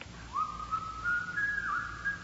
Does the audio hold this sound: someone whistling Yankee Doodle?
yes